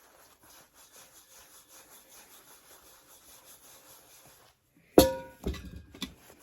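Scorched stainless steel being scrubbed with a gritty cleanser, heard as a steady run of soft rhythmic rasping strokes, followed by a sharper clatter and scraping near the end.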